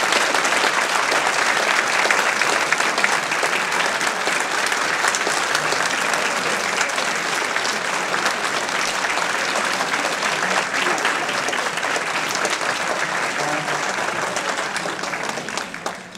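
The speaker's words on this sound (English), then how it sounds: "needed to turn the lights on, Dr. Ravitch, so you could see everyone standing and applauding" A town hall audience on safe schools rises to its feet in sustained, loud applause, a dense wall of clapping holding steady throughout before tapering at the very end.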